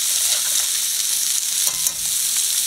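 Fresh-caught catfish sizzling in its own rendered oil in a pan that started dry, a steady close frying hiss throughout with small crackles and no voices.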